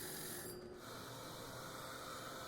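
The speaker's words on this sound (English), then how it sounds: "I first drill out the center hole and then follow up with a hole saw without the centering bit." A drill press cuts a hole in wood with a hole saw, after the centre is pre-drilled and with no centering bit fitted. It gives a steady, continuous whirring grind that stays at an even level throughout, with no talking.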